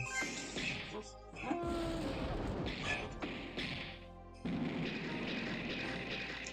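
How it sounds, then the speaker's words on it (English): Explosions in a Pokémon video game: a run of booming crashes and thuds with crackling bursts, loud and dense, one blast after another with brief gaps. "All the explosions, man."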